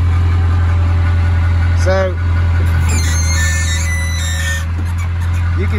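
A Caterpillar 416 backhoe's diesel engine idles steadily up close with a deep constant rumble, then rises slightly as throttle is added, with a brief squeal partway through and someone speaking over it.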